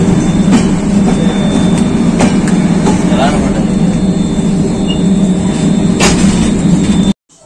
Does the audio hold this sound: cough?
no